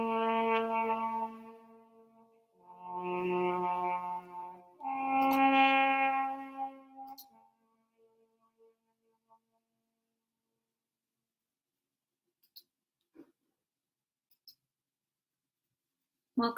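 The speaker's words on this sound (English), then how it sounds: "that was the sound of the Alpenhorn of summoning" Three long, mellow horn notes rise and sustain, moderately loud, then fade to near silence with a few faint clicks.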